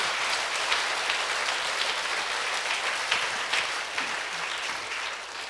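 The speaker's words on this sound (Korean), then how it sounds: "자, 박수로 주님께 영광 돌립니다." Congregation clapping during a Sunday church service, a continuous even burst of applause with a few louder claps standing out, no speech over it.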